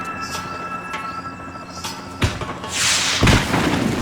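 Fireworks going off in the video game Max Payne 3: several booming thuds and sharp bursts, some distant and some closer, separated by short pauses, ending in a louder rushing blast.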